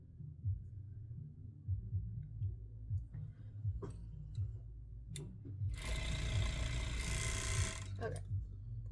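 A sewing machine stitches the crotch seam of a romper in t-shirt material, a low rhythmic thumping that builds into a louder whirring run near the end, close by, with faint clicks and handling around it.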